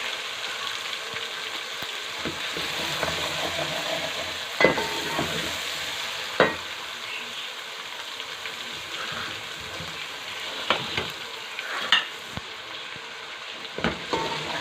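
Garlic ginger paste sizzles steadily in hot oil in a pan while a spoon stirs and scrapes it, with occasional sharp metallic knocks against the pan.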